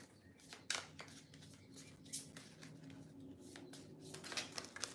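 Tarot cards riffle and slide in soft, quick flurries as they are shuffled, close and quiet, with sharper snaps scattered through.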